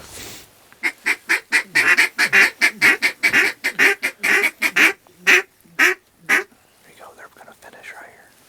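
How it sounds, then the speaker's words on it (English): Geese honk in a rapid, loud run of calls close by on a duck and goose hunt in icy timber, the honking thinning out toward the end with soft talk after. "Goose!"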